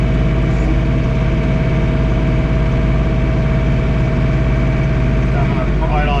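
John Deere 3 Series compact tractor with a Yanmar engine running steadily at about 2,300 RPM while snowblowing, a loud, constant low drone close by with no break.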